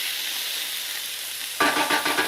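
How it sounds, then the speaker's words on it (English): Onions and garlic sauté in a pan: a soft hiss gives way to a louder, bubbling sizzle that starts abruptly near the end of the short stretch. "the onions and the garlic, a little bit, and just saute that, just until the onions become soft and you can smell the garlic"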